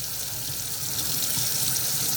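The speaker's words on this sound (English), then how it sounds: "you place it under some running water, and you allow the water to fill the crevices between the leaves" Steady running tap water pours over a de-stemmed artichoke with its tip cut off, filling the crevices between the leaves, a continuous close splashing rush with no talk.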